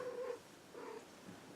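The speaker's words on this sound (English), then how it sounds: "This is Callie, my purring cat." A pet cat, Callie, purrs and vocalizes close by in a quiet room, with a louder burst at the start followed by softer, steady rumbling.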